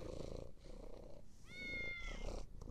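A cat in a Garry's Mod horror map lets out a single drawn-out meow mid-clip over a loud, steady low purring rumble, fairly quiet overall.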